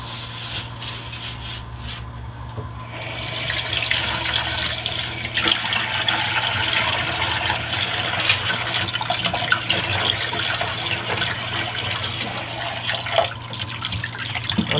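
Tap water runs steadily into a basin as fish or meat from the market is washed before cooking, a constant close splashing stream with faint handling sounds and no talking.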